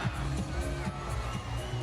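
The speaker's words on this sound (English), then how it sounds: "you know it's a penalty corner when you hear the crowd go up" A hockey crowd at a women's World Cup qualifier final between India and England, rising in a steady, faint roar of cheering heard from a distance.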